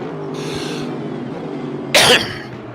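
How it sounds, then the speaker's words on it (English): A single sharp cough sounds close and loud over a steady low background hum, with nothing else before or after it, during an online sim racing endurance event. "I just coughed"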